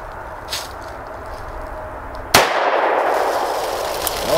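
A Bond Arms Defender .45 Colt/.410 derringer fires a single sharp, loud report at big lead bullets aimed at jugs. A bright, sustained ring and hiss trails after the shot, and a faint click comes earlier.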